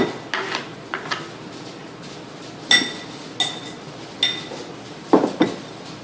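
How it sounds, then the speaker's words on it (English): Pineapple salsa ingredients being dumped into a bowl: sparse light clinks and knocks of utensils and bowl, several separate taps spread over a few seconds, close and fairly soft. "now we're going to dump it into our bowl again"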